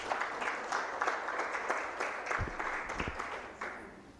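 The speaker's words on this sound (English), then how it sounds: "I expected that round of applause during her remarks" An audience at a business and human rights event gives a sustained round of applause, with many hands clapping at a moderate distance and the sound fading slightly toward the end.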